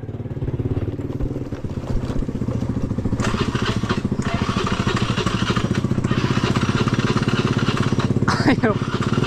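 A motorcycle engine runs close by with a rapid, even chugging pulse that never lets up, while people talk over it now and then.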